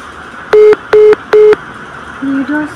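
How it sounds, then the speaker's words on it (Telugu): A phone line tone as a call is cut off, with three loud, evenly spaced beeps followed by two quieter, lower tones close together. "ఫోన్ కట్ చేస్తాడు."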